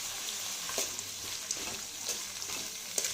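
Spices with fennel seeds frying in oil in a pan for mushroom sambar, a soft steady sizzle with faint stirring scrapes at regular intervals, close and alone.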